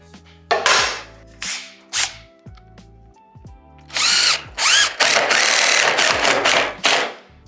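A power drill drives screws into the header of a heavy-duty pocket door frame, loud close bursts of whirring with rising pitch, several short runs then longer spins with brief stops.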